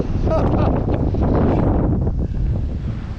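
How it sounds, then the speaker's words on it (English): Strong wind buffets the microphone on a coastal morning walk around Garlieston, a loud continuous low roar with gusty surges throughout. "the wind is blowing"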